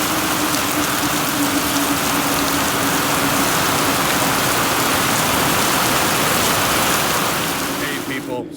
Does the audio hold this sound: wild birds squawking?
no